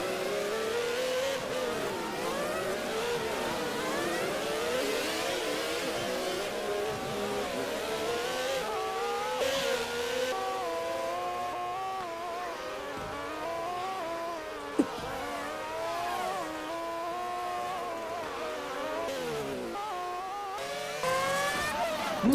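Porsche 911 2.8 race cars in a racing video game at the Okayama circuit, several engines revving and shifting loudly and continuously, with tire squeal as cars pass close by.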